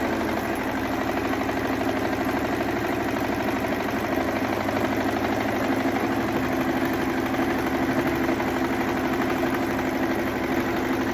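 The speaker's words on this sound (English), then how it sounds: "I'm literally just holding the fabric away and sewing down the line." A sewing machine runs steadily down a line of stitching on fabric for a Christmas table runner, giving a continuous, even mechanical whir and rapid needle chatter that holds at a constant level throughout, with no talking.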